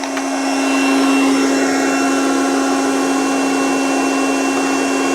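A magnetic induction heater switches on and heats a steel bolt, giving a steady, loud electrical hum with a constant high whine that holds alone without pause.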